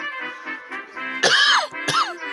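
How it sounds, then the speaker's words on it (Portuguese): A person coughs twice in quick succession, loud and close, the harsh bursts following a brief stretch of hoarse vocal sound. "Deu a tosse aqui agora."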